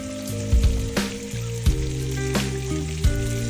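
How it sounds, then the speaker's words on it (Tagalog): Onion and garlic sautéing in a pan give a steady sizzle with a few sharp utensil clatters, under continuous background music. "magigisa na tayo. Inuno ka na yung sibuyas. Yan isusunod din niya syempre yung bawang"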